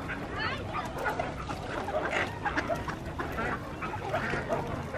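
Ducks quacking in a loose, irregular scatter near a family feeding them seeds, with other noise and some voices mixed in around the calls.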